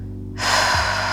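A broadband inhale or exhale during a seated yoga twist for lower back relief, starting abruptly and holding steady for most of a second, close to the microphone with no talk.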